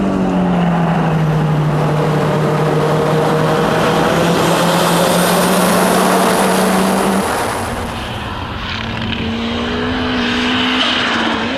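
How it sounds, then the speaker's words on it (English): A turbocharged Honda S2000 engine drones steadily at high revs, pitch sliding slightly before easing off, then building again, with a whooshing roar throughout. "The engine just loves to rev."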